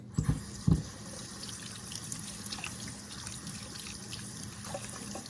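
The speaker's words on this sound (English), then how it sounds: "So rinsing beans" Tap water running steadily into a sink while beans are rinsed, a constant soft splashing hiss with a couple of clunks near the start, close by and without speech.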